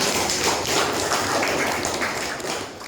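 Applause in a classroom, a dense, steady patter of many hands clapping close by for about three seconds, fading slightly at the end.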